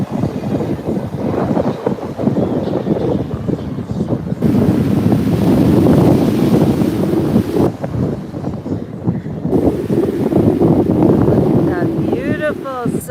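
Strong wind buffets the microphone in heavy roaring gusts over breaking surf at Fort Myers Beach, loud and continuous, with people talking faintly in between.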